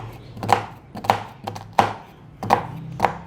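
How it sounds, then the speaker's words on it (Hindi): An onion is chopped on a cutting board while cooking dhaba-style tori sabzi, with five sharp, evenly spaced knife chops that ring out close and clear. "एक प्याज लेंगे और उसको भी काट लेंगे। ठीक है व्यूअर्स, इसको हम चॉप करके काटेंगे।"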